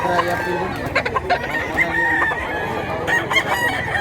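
Roosters and chickens at a livestock sale, including a young stag, give loud nearby crows and clucks over a busy farm background with people talking.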